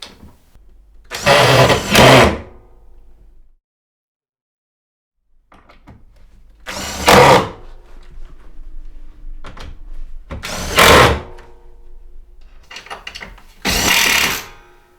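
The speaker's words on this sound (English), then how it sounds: "put those last 4 screws in to secure these 4 boards" A power drill drives the last four screws to secure loft boards, four loud whirring bursts of a second or two each, separated by quieter pauses with small handling knocks.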